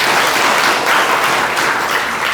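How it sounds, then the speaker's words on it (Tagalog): Congregation at a Sunday worship service breaks into continuous, dense applause, loud and even throughout the short stretch with no talking. "Palakpakan sa Panginoon."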